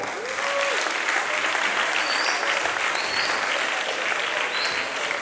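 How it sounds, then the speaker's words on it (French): Sustained audience applause after a one-man nature conservation show in a village, steady and full for several seconds, with a few faint whistles or voices rising briefly above the clapping. "Est-ce qu'on peut encore l'applaudir très très fort?"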